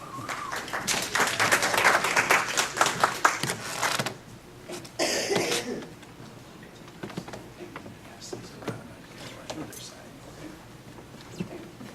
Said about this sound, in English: So a big round of applause, please.